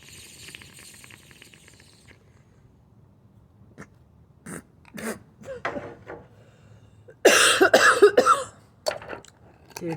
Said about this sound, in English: you don't get off unless you cough